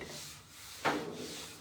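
A short, light sanding stroke rubs across a craft stencil, a single soft scratchy burst standing out from quiet room tone.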